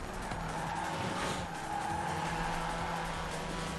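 Drifting car in Forza Horizon 4 racing, tires squealing in a sustained skid over the engine's roar, moderately loud with a smeared, sliding tone.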